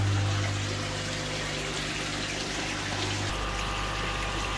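Aquarium water pump on an Eazypod filter running with a steady low hum and a constant wash of moving water; the tone shifts slightly partway through.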